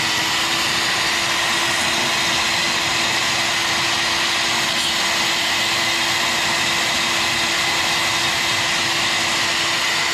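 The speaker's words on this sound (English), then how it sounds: "That's pretty much our new bandsaw. It cuts through plastic real easily." A Milwaukee bandsaw cuts through a small piece of plastic, giving a steady, loud whirring hum with a constant tone that runs unbroken for about ten seconds. No one speaks.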